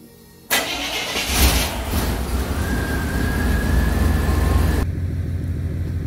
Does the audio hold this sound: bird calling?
no